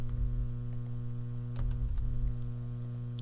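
Several keystrokes on a computer keyboard, clustered around the middle of a short stretch, sit over a steady low electrical hum; the typing is soft and close, with no voices.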